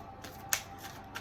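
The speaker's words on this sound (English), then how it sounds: "I'm gonna shuffle this up because I want to close this out" A deck of Sacred Rebel oracle cards is shuffled by hand, with soft riffling bursts and one sharp card snap, quiet and close with no talking.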